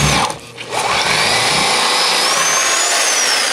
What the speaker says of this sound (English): These fuckers are hard to drill through.